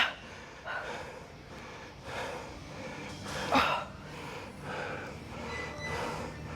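Heavy, labored breathing during a pull-day workout set comes in repeated gasping, snorting breaths, roughly one per second, close and moderately loud.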